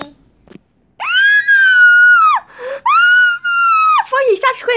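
A person screams in two long, loud, sustained wails after a short breath, then breaks into ragged sobbing cries, close and unaccompanied.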